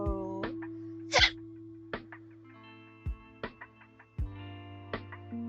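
A single sharp sneeze bursts out near the start, loud against steady electronic puzzle-game music with sustained tones and light blips that continue throughout.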